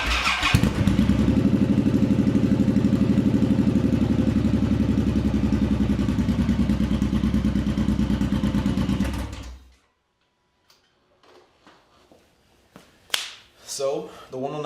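A Suzuki M109R motorcycle engine cranks, catches and runs at a steady, loud idle for about nine seconds close by, then shuts off, followed by quiet handling noises and a few clicks.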